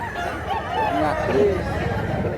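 Birds calling at an open-air poultry market in Mantalungon, Cebu, a rooster among them, with short rising honk-like calls over a steady hubbub of crowd chatter and background voices.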